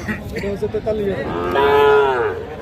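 A Sahiwal bull calf, about four and a half months old, at a farm in Satkhira gives one loud, close, drawn-out moo that swells after a short burst of shuffling noise.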